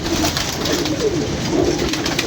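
Pigeons coo in low, repeated throaty calls over a steady background hum, several birds close by.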